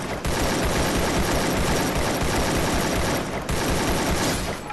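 Dense, sustained gunfire from the Free Fire battle royale game, with rapid automatic bursts running almost continuously at close range and only a brief gap near the end, with no talk over it.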